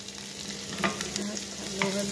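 Vegetables sizzle in a frying pan alongside sardines, a dense crackling hiss broken by a few quick scraping stirs over about two seconds.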